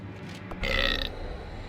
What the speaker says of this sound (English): The hellhole rewarded the sacrifice of a live hero with a respectable burp.